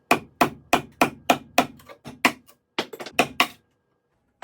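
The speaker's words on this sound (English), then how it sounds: "So I'll go up there with just a chisel and a hammer" A hammer drives a chisel into wood in a quick run of about a dozen sharp, close knocks. The strikes are evenly spaced at first, then come in a looser burst before stopping.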